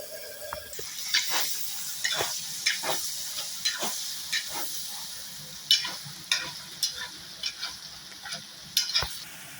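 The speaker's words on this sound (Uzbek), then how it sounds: "Sazi piyoz go'shtimiz juda yaxshi qovurildi." Onion and meat fry in a pot for Uzbek plov, giving a steady sizzle punctuated by repeated scraping stirs and clicks of a utensil at an uneven rhythm. No one speaks.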